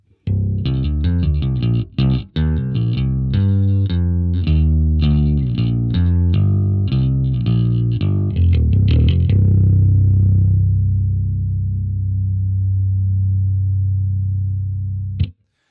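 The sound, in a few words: bass guitar through overdrive effect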